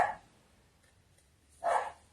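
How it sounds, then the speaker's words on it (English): A dog gives two short, sharp barks, one at the very start and another about a second and a half later, fairly close and moderately loud, with near silence between them. "very fierce dog, can you tell?"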